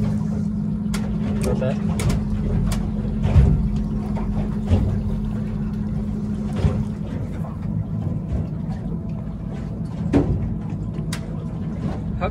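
A boat's outboard motor idles steadily during a fishing trip, a low constant drone under brief talk, with a few knocks and clicks from the boat.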